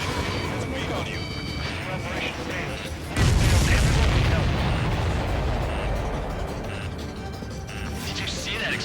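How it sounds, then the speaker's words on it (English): A supply ship explodes in the combat flight game Ace Combat 7, a sudden loud booming blast erupting partway through amid ongoing jet and battle noise, with radio chatter running underneath. "Did you see that explosion? Looks like that's one of them down."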